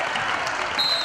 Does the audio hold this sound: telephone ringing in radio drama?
no